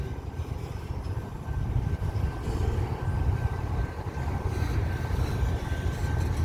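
A freight train rumbles continuously as it slows to a stop in open country, with a steady low roar of rolling cars and a faint high squeal running through it.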